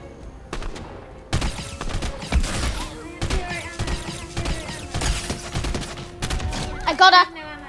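Rapid gunshots in the video game Fortnite, a string of sharp close shots in uneven bursts with short gaps, ending with a brief game chime.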